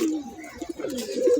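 Pigeons coo in a loft, a low rolling coo repeated several times close by with no talk over it.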